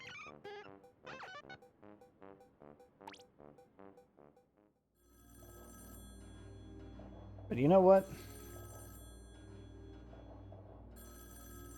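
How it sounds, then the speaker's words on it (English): A telephone rings repeatedly in Splatoon 2's Octo Expansion, a sustained electronic trill over a steady hum. It follows a stretch of someone talking, and a brief squeaky flourish rises in the middle. "I'm just gonna let that phone ring."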